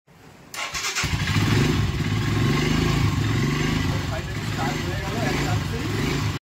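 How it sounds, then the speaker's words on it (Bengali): A motorcycle is cold-started after a freezing night: a quick crank catches within a second, then the engine settles into a loud, steady, slightly uneven idle nearby before cutting off. "বাইকটাকে একটু কোল্ড স্টার্ট করতে হবে।"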